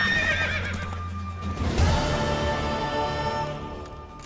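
A mare in The Witcher 3 video game lets out a loud, close whinny with a rising then falling shake, followed by a few hoof clops and fading game ambience.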